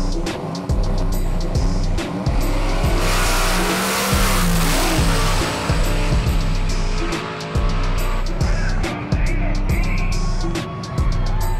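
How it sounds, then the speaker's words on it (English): A Chevrolet S10 truck drag racing a True Street pass at a no-prep track, engine roaring loud and steady throughout with revving surges and a rising, sustained high-power drone. "we have Mike Winder in the Joe Dirt S10 for the first round of True Street"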